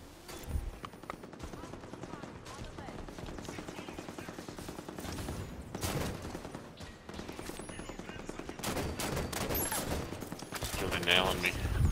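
Turret gunfire in the Halo 5 campaign on Legendary at Meridian Station, with dense, rapid automatic bursts that build toward the end over a busy, loud wash of battle noise.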